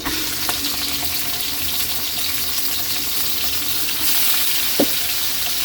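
Pork hits hot oil with sautéed garlic and onion, a loud continuous sizzle with a few clicks and a brief clatter near the end, no voices.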